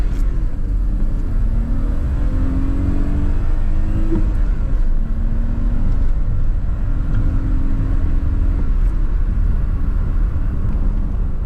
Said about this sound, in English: let's see if maybe this 2 litre is lacking a little bit in ultimate power. Let's take it through the gears.